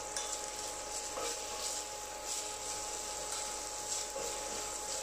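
Garlic sizzles steadily in hot oil in a pan while being stirred for chili oil, a continuous close hiss with faint scraping strokes of the spoon, no talk.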